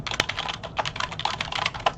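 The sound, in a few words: typing on a computer keyboard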